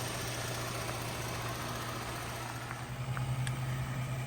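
A 2014 Buick Enclave's 3.6-liter V6 idles smoothly with 118,000 miles on it, a steady close hum with a constant low drone and no revving.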